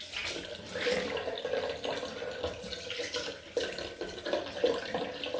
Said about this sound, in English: just go for the rinse now